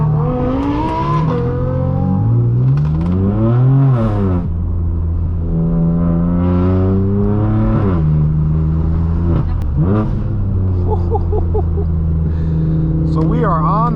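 Straight-piped, Gintani-tuned BMW M4 F82 pulling away on the road, its loud exhaust rising and falling through gear changes while people talk over it.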